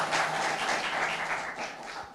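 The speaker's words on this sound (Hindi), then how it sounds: "एक बार तालियां हो जाए।" An audience claps steadily and densely for a coach at an academy that trains young people for army and police jobs, a continuous wash of applause with no words spoken.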